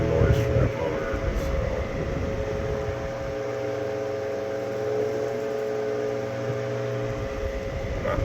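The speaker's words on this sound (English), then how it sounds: "a little bit of noise from that motor" Steady mechanical hum from the electric motor of a 1931 Graybar oscillating fan, heard up close as a continuous drone with a faint rattling edge and no pauses.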